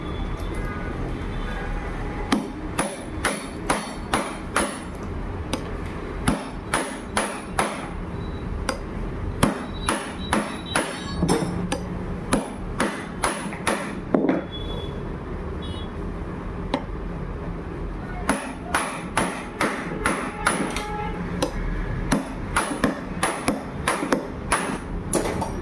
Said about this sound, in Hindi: अब इसे केम को हम हथौड़ी की मदद से इसको ठोक देंगे अंदर की ओर इस प्रकार से।